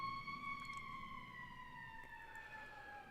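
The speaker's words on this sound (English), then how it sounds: "All the sirens." Multiple emergency sirens hold long steady wailing tones that slowly drift downward, faint and far off, layered over low traffic rumble.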